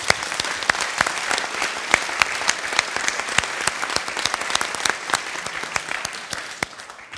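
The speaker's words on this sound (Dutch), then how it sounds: "wil ik naast de heren ook nog een applaus voor Martine vragen eigenlijk." Applause fills the room at a forum lecture as the audience claps steadily, with dense, sharp hand claps continuing evenly for several seconds without speech.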